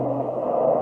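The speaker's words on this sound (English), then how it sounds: "If you didn't have enough air, it would sound something like this" A baritone horn is played without enough air, giving a thin, buzzy, strained low tone that is held steady for under a second.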